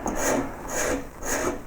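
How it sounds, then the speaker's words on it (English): A scraper works over a carved wooden koi carp head to remove rasp marks, three close strokes in a steady back-and-forth pattern with a rough, rasping texture. "you can scrape over that surface and that will remove the rasp marks."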